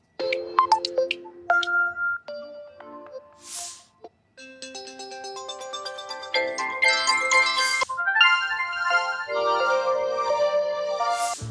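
Several different electronic ColorOS 14 phone ringtone melodies play one after another, bright and tuneful, each a short musical loop with brief pauses between them.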